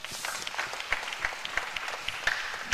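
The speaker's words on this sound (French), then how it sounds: "on peut les applaudir" A small group claps in scattered applause, a few seconds of uneven hand claps at moderate volume.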